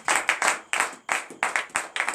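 Rhythmic group clapping from a congregation at a night deliverance prayer service, loud and near, in even repeated bursts with brief gaps and no speech.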